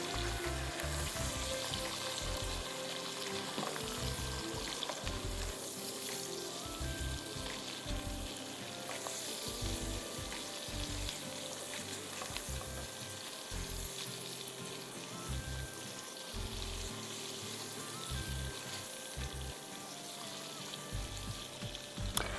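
Chicken frying in salted butter in a pan gives a steady, dense sizzle that carries on without a break, along with occasional stirring, and there is no talking.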